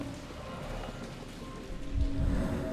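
Steady rain pattering on surfaces in the game Sherlock Holmes: The Awakened, a dense wash of drops that swells slightly toward the end, heard alone without talk.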